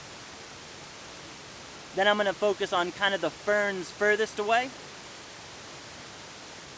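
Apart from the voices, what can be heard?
waterfall at Nandroya Falls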